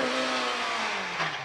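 Chevron B19 race car with a Cosworth FVD engine bored out to 2 litres, at the Prescott hill climb. A loud, high-pitched engine scream holds steady, then the pitch drops slightly as the car passes close by, with no voices.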